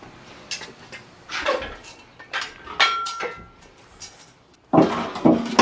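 A loose engine oil pan hangs under a Jeep, clanking and rattling in irregular metallic bursts, some sharp and ringing, separated by short quieter gaps; close and fairly loud.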